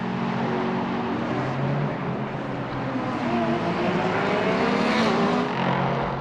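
Factory Porsche and Ferrari GT race cars battle wheel to wheel at Monza during a Michelin Le Mans Cup race, engines roaring loud and continuous with shifting pitch as they pass, a commentator's voice running faintly underneath.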